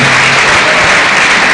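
An audience at a motivational conference in Jos claps loudly and continuously, a dense, even wash of hands filling the room with no pauses.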